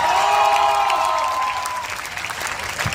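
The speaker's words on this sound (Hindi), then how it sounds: "तालियां कम है, एक बार ढंग से उठाओ" Applause from an audience at a Hindi literary and poetry gathering, a dense steady clatter of many clapping hands lasting throughout, with a faint voice briefly overlapping early on.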